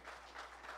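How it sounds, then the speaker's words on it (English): A church congregation claps together in praise, a faint, dense patter of many hands heard from a distance in a brief burst. "Let's give a clap of praise to the Lord"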